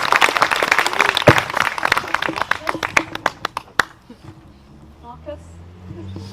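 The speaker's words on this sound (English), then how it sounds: "Big cheer. Well done, Amy." Wedding guests applaud and cheer during the ceremony, a burst of clapping that thins into scattered claps over several seconds, with voices mixed in before it fades to quiet.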